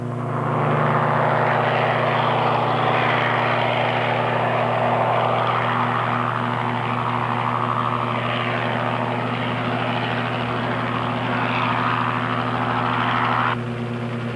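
A crop-spraying helicopter drones overhead with a loud, steady rotor and engine roar that holds constant before cutting off near the end.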